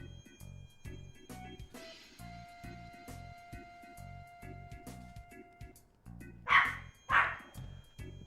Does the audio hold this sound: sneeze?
no